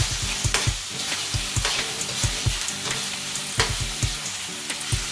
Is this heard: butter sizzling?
yes